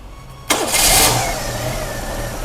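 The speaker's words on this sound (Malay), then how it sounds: "Hanya satu kali kick sahaja settle dia dah boleh hidup." A repaired motorcycle engine catches on a single kick, with a sharp burst of revving that settles into a steady, close idle.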